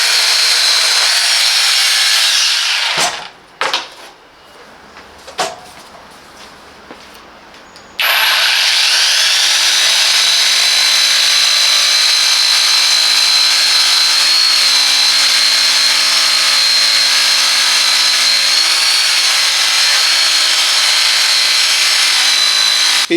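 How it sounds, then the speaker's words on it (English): A Parkside Performance PPSTK 550 A1 jigsaw cutting wood gives a loud, steady, high-pitched buzzing rasp that starts after a few seconds of brief stop-start bursts and then runs continuously, close up and without speech. "The Parkside Performance Jigsaw is a powerful and versatile tool designed for precision"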